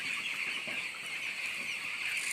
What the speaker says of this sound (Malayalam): തൊടാൻ പറ്റില്ല, കുറേ കോഴിയുണ്ട്.